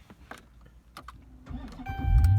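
A 2014 Dodge Charger SRT8 with a 6.4L V8 is started by push button: a few soft interior clicks, then the engine cranks and catches into a loud, deep rumble that swells toward the end.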